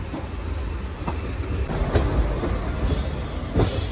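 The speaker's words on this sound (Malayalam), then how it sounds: "കുറേ നേരം ട്രെയിനിൽ ഇരുന്നതിന് ശേഷം ഇപ്പോൾ ഈറോഡ് ജംഗ്ഷനിലേക്ക് എത്തിക്കൊണ്ടിരിക്കുകയാണ്" A passenger train rolls toward Erode Junction with a steady rumble and clickety-clack of wheels on rail, heard from inside the carriage, with several sharper rail knocks rising through the continuous noise.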